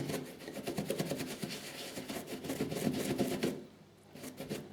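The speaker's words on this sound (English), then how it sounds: "This is a synthetic knot, so it's you can really rub it on the towel." Synthetic-knot shaving brush rubbed hard on a towel, a quiet rapid rhythmic scrubbing of brisk strokes that pause briefly, then resume more softly.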